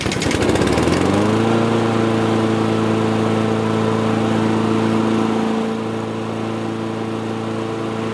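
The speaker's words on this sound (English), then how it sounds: "Let's start the engine up." A car engine treated with Seafoam cranks briefly, catches and settles into a steady, even idle that runs on without stopping, close and loud.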